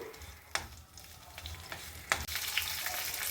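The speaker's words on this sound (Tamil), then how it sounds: "முதல்ல நம்ம கட் பண்ணி வச்சிருக்க கொத்தமல்லியோட தண்டெல்லாம் போட்டு வறுத்துக்கலாம்." Chopped coriander stems sauté in a hot pan for a coriander root chutney, a dense close sizzle with two sharp spatula scrapes and stirring that swells louder toward the end.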